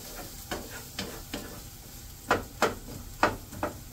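Garlic and onion frying in a pan, a steady sizzle broken by a series of short scraping stirs at irregular intervals, close and moderately quiet, with no voices.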